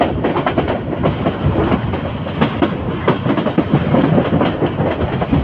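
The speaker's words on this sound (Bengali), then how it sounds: "ক্যান্টনমেন্ট রেল স্টেশন ক্রস করে ট্রেনটি রেডিসন হোটেল ক্রস করে যাচ্ছে" A train runs steadily along the tracks in Dhaka past Cantonment station, loud and close, its wheels clacking in a continuous rhythmic rumble with no voices.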